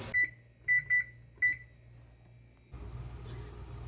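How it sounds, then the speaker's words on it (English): A kitchen timer in a home kitchen where sourdough is baking gives several short, sharp beeps in an irregular cluster, and then a low hum of kitchen background noise follows. "the 2-minute timer went off"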